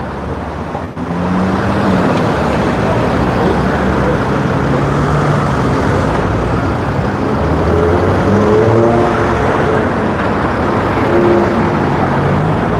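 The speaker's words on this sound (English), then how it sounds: "I am in the street, so you will hear noise, cars, people talking, and the wind is really strong." Outdoor city street with cars passing and a strong wind buffeting the microphone, a loud steady roar of traffic and rumbling gusts with a faint whine of engines, no voices standing out.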